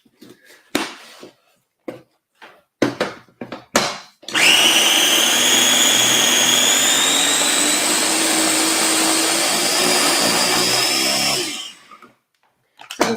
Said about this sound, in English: So you can sort of hear the blades start to spin too freely when it all just gets pushed to the sides